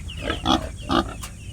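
A pregnant sow, a mother pig due to farrow soon, gives a few short, close grunts in a pen, with low snorting between them and no talk.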